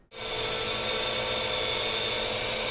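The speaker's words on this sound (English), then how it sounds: "That's the sound of the AR drone" A steady, high-pitched whirring buzz starts abruptly and holds constant, the close electric drone of an AR Drone quadcopter's small spinning rotors.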